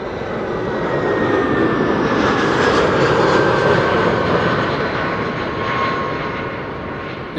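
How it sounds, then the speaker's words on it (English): An Iberia Express Airbus A320 arrives at Amsterdam Schiphol from Madrid: a loud, close jet-engine roar with a thin whine that swells and peaks midway, then eases off as the plane passes, with no speech. "This is Iberia Express flight 1791 arriving from Madrid, A320."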